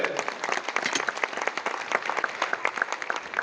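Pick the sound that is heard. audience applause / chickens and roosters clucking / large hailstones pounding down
audience applause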